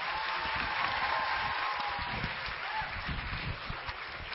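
A seminar audience welcomes a guest with steady, moderately faint applause, a continuous crackle of many hands clapping throughout.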